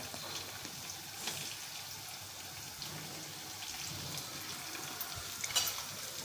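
Sliced onions sauté in a pan with salt and turmeric, giving a soft, faint sizzle with occasional stirring scrapes and a brief clatter near the end.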